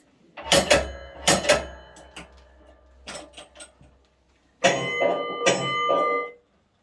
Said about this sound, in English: so I ring the bell twice